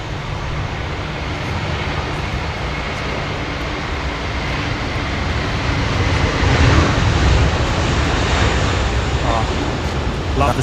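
Jetstar Airbus A321 rolling for takeoff at Sydney Airport, a steady broad engine roar that swells midway and stays loud, with wind noise mixed in.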